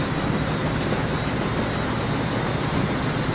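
Diesel and steam trains rolling along the track in the Transport Fever game, a steady, loud, continuous rumble with a faint high whine, no pauses over the few seconds.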